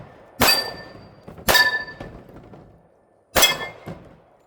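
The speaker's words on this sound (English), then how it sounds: "let me start out shooting these plates at 45 feet" Shots from a Springfield Garrison .45 1911 pistol firing Winchester 230 grain full metal jacket rounds strike steel plates at 45 feet. Three sharp reports each land with a ringing metallic clang, and a softer thunk follows the last one.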